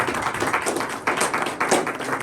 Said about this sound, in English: round of applause for Don.